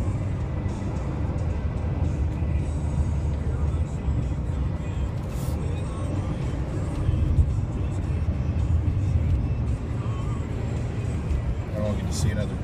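A car driving on a road on a cool November day, with a steady broadband engine and road rumble running throughout at a constant level, mixed with a background song.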